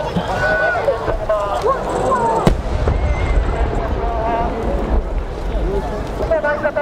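Fireworks at the 2019 Omagari fireworks festival in Japan burst and crackle close by, one sharp bang standing out midway, while a crowd murmurs and voices chatter underneath.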